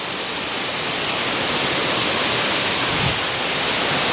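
Floodwater from heavy rain fills an apartment basement, giving off a dense, unbroken rushing hiss like pouring water, loud and steady throughout with no voices.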